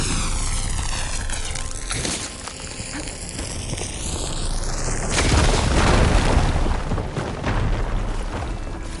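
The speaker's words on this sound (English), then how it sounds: "Should be able to blow up that fire gleam." A fire gleam blasted apart in Horizon Forbidden West: a descending whistling tone gives way to a heavy rumbling boom that swells and lingers before fading.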